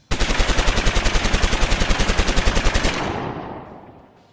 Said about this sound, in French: J'entends déjà les coups de fusil.